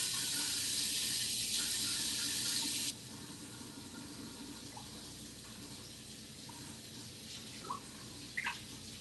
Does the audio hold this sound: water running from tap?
yes